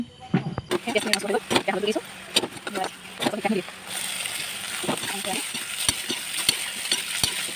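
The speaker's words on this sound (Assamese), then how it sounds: "এতিয়া গৰম হ'লে তেল দিম, তাৰ পাছত ঢেকীয়া ভাজিম" Dhekia fern greens fry in hot oil in a wok, a steady sizzle that swells once the greens go in, with intermittent scraping stirs. Someone talks over the first few seconds.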